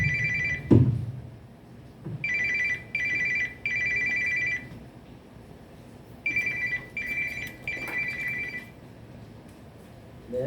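A telephone rings in repeated double bursts, two ring cycles with pauses between them, fairly loud and close, with a short thump near the start and no talking.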